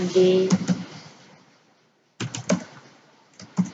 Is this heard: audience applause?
no